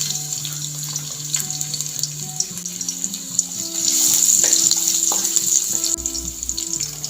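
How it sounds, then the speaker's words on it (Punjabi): Finely chopped garlic hits hot oil in a wok for farfalle pasta and gives a loud, continuous sizzle up close. The sizzle swells into a stronger hiss midway, with faint tonal sounds behind it. "ਆਇਲ ਗਰਮ ਹੋ ਗਿਆ ਹੁਣ ਆਪਾਂ ਇਹਦੇ ਚ ਪਾ ਦੇਂਗੇ ਬਰੀਕ ਕੱਟੇ ਹੋਏ ਲਸਣ"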